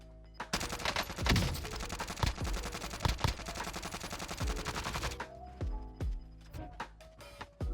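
Gunfire rings out in the Warzone video game while shooting at an enemy, rapid automatic bursts packed into a long loud volley, then a few scattered single shots and impacts, with no voices over it.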